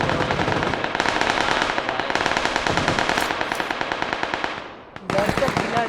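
Tommy gun firing in the PUBG PC Lite video game, a long rapid burst of loud automatic shots that briefly stops and then resumes, with a player talking over the gunfire.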